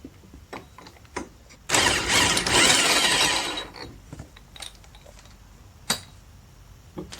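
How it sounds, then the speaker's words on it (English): A close, loud burst of an impact gun hammering off a 30 mm sprocket nut on a Suzuki LT 230E ATV, lasting about two seconds, framed by scattered small clicks and tool knocks in a quiet workshop. "We're going to take our 30 millimeter. I got it on my impact gun."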